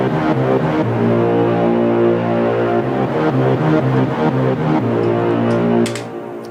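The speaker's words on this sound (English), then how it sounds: "that one's just the regular basic Hollywood brass" A basic Hollywood brass synthesizer patch plays broad, sustained chords in a bold up-down stepping pattern, loud and full, then fades out at the end.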